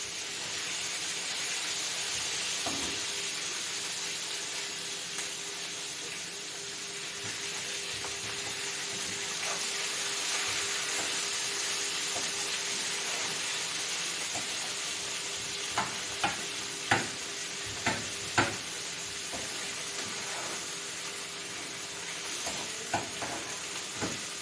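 Saag greens sizzle in a home cook's pan with a continuous moderate hiss and a little steam. Toward the end come several sharp clinks of a utensil stirring against the pan.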